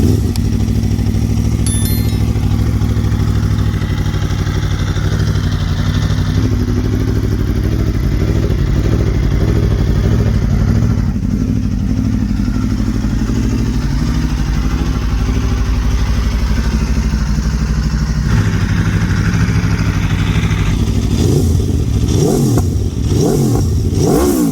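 A 2022 Aprilia RSV4 1100 Factory motorcycle engine runs loud and close throughout, holding a rough idle with repeated revs, then sharp blips of the throttle near the end, with no voices.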